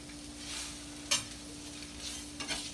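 Eggs fry in a Saladmaster pan with a quiet, steady sizzle, broken by a sharp utensil scrape and a few soft clinks.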